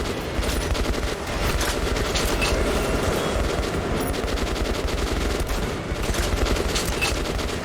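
Loud, rapid gunfire from sniper rifles in the video game Metro: Last Light Redux, with dense overlapping shots running continuously throughout and no talking.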